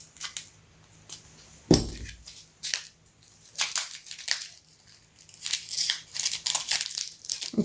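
Scissors cutting material up close, a sequence of sharp snipping and crinkling strokes at an uneven pace, with quiet pauses between cuts and no talking.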